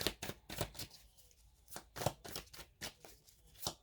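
Tarot cards are shuffled by hand in quick, close, soft riffling and slapping bursts, repeated rhythmically with no talking.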